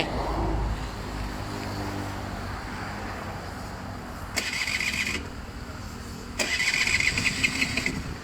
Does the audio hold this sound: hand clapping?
no